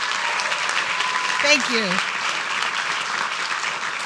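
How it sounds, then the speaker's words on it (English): Audience applause for poster winners at a city council meeting, a steady wash of clapping from a crowd throughout, with a brief spoken voice in the middle. "Your posters, yes, give a big round of applause."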